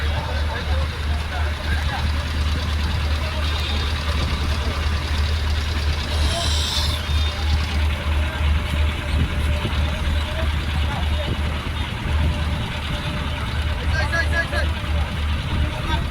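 A vehicle's engine idles with a loud, steady low rumble as it parks on a river ferry, with a brief hiss partway through and people talking over it.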